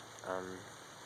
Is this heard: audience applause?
no